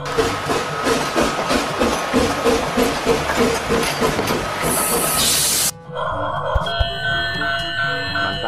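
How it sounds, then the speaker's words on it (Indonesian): A toy train whirs steadily with a rhythmic clattering hum, then the sound changes abruptly to a thinner mechanical whine with faint clicks. "Kita nyalakan saja. Wah, lihat teman-teman. Kereta apinya mengitari mainan."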